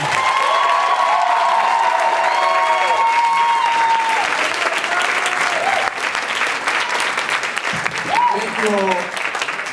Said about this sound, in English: One more round of applause for Malachi.